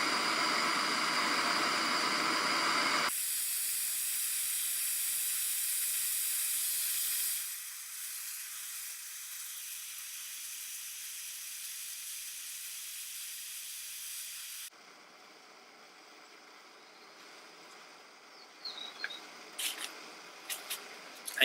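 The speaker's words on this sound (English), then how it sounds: "We've got a sort of a rolling simmer on there at the moment." Water boils loudly at a rolling simmer over a gas burner in a folding firebox with a constant hiss, shifting down in level partway through and ending with a few faint clicks.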